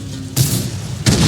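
Two heavy booms from a tank destroyer's gun in World of Tanks, each a loud broadband blast with a deep low-end thump, spaced about 0.7 seconds apart, close and alone with no talk.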